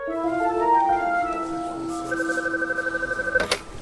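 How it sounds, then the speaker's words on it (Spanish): A telephone rings with bright, melodic electronic tones, then settles into a rapid pulsing ring pattern that repeats up close before cutting off with a short burst, with no one speaking. "al lunes siguiente el teléfono suena otra vez"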